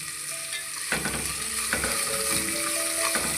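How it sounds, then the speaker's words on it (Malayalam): Chopped onion with a pinch of salt sautés in a pan for a Kerala-style chicken stew, a steady broadband sizzle with spoon scrapes and stirring knocks breaking in at intervals, close and alone. "ഇനി ഈ സവാളയൊക്കെ ഒന്ന് സോഫ്റ്റായിട്ട് വരുന്നവരെ നമുക്കൊന്ന് വഴറ്റി കൊടുക്കാം"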